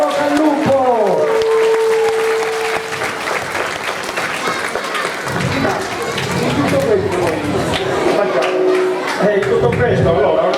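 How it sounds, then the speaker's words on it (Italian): Audience applause at a children's carnival festival in Bitti, Sardinia, a loud steady clapping crowd filling the space, with chatter and a voice over a PA system mixed in. "anche tu un bel applauso perché Franco"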